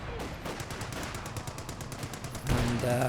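Gunfire and a rifle grenade explosion in a World War II strategy game match, a rapid burst of distant shots followed by a louder blast near the end.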